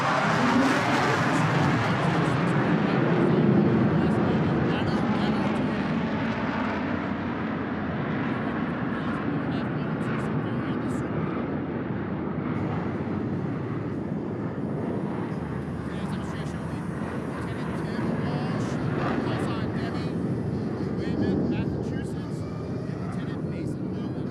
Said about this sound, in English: Flying the F-18 to the edge of his operating envelope.